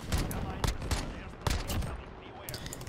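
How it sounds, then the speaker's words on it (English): Rapid gunfire from a Call of Duty: Modern Warfare multiplayer match, with sharp shots in quick bursts, some near and some farther off, over a dense, noisy battle background. "Where's all this shooting?"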